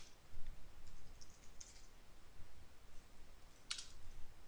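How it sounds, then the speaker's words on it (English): Typing on a computer keyboard while writing C code, soft irregular clicks and key taps heard close up at low volume, with a couple of sharper clicks standing out and no speech. "Can't even talk when I'm typing."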